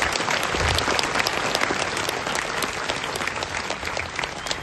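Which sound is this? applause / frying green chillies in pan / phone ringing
applause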